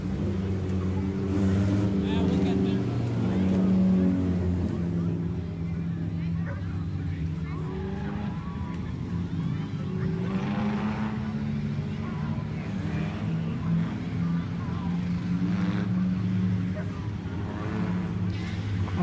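Four-cylinder bone stock race cars roar around Grand Bend Speedway in a 20-lap feature race, a steady, loud drone of engines throughout with crowd babble and an announcer's voice over the top.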